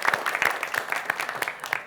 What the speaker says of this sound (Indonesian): kembali kita berikan tepuk tangan